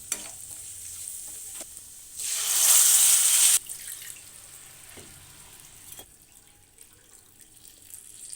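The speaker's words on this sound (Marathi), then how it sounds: "आणि लगेच डाळीचा तडका देऊया" Hot tempering, with garlic in it, is poured into toor dal cooked with spinach. It gives a sudden loud sizzle that lasts about a second and a half, then settles into quieter stirring and faint kitchen sounds.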